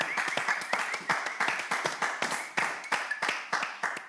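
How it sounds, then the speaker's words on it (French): An audience claps for contestants in a steady burst of applause, each sharp clap clearly separated in a moderately loud, fairly even rhythm with no voices over it. "je vais vous demander d'applaudir pour ces merveilles-là"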